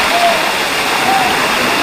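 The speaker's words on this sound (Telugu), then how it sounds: "చూస్తున్నారుగా ఇది వచ్చేసి గాంధారి వాటర్ ఫాల్." Rushing water at Gandhari waterfall forms a dense, steady hiss and roar, loud and unbroken for the whole brief moment.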